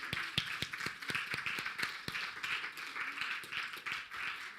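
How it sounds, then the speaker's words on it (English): An audience claps for conference panellists, a brisk run of sharp overlapping hand claps at moderate distance that keeps going steadily throughout. "And if we could just have a round of applause for all of our panellists today"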